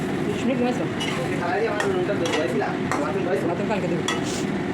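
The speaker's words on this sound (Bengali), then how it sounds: "হাফ সেদ্ধ করে রাখা লতিটা দিয়ে লতিটা দিয়ে আমি নেড়ে চেড়ে মশলা সাথে খুব ভালো মতো মিশিয়ে নেব" Parboiled taro stolons being stirred into fried spice paste, a continuous close sizzle under repeated scraping strokes of a spoon against the pan, with a voice talking over it throughout.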